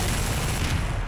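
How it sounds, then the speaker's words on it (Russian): Rapid crackling bursts of New Year fireworks going off inside the Garry's Mod video game, a dense continuous barrage of popping blasts that fills the whole moment with no pause. "Фейерверки новогодние"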